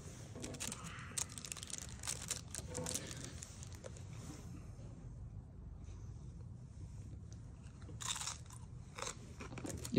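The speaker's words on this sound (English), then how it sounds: "Nice crunchy carrot." Close, crisp crunching of a carrot being chewed, repeated bites and grinding in a steady rhythm, with a few louder snaps.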